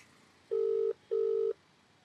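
Telephone ringback tone on a speakerphone call: two clean, evenly spaced electronic tone bursts of about half a second each, separated by a short gap, over faint background hiss.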